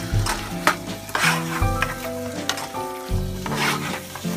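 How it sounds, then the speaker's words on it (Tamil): Mutton liver with pepper fries in a pan, bursts of sizzling broken by repeated stirring scrapes and clinks against the pan, close and fairly loud with no speech. "இப்போ கடைசியாக இதை போட்டு பெப்பரை போட்டு கிண்டணும்."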